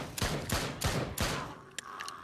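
Pistol shots hit flying spitters in the zombie VR shooter Spawn of the Dead: four sharp, firecracker-like pops in quick succession, followed by a couple of fainter bursts.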